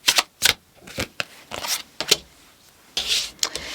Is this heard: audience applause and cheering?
no